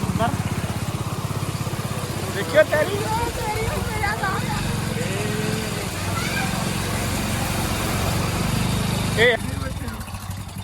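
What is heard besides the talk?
motorcycle engine riding through water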